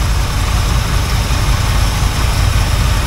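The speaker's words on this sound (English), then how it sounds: "Well, look at that, running on its own." A 1980 Camaro Z28 engine idles steadily on its own, a loud, continuous low rumble with an even throb that fills the whole stretch without any talk.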